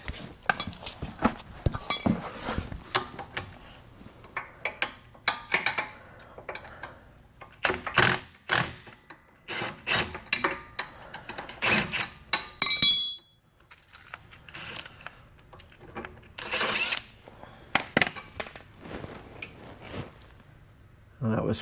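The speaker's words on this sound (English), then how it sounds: "now we're going to go ahead and remove this. It's a nut and a bolt." A wrench works a nut and bolt loose on a Walker mower's GHS blower, producing scattered metallic clicks, clinks and ratcheting taps, close by, in irregular bursts broken by pauses, with someone talking at intervals.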